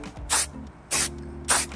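Spray paint is applied as a second coat to a Crafter van panel, three short loud hissing bursts evenly spaced with brief pauses and a low hum between.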